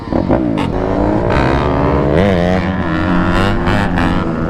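A tuned car engine revs hard out in a busy parking lot, its rising and falling throttle bursts loud and close, with several sharp climbs and brief drops through the stretch.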